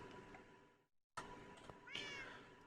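A pet cat in the video game Minecraft meows a few times, clear and close, with short breaks of silence between the cries and no talking.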